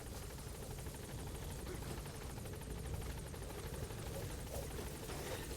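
A helicopter in Metal Gear Solid V: The Phantom Pain drones steadily with a rapid rotor chop and a buzzing whine, loud and continuous, with no talk over it.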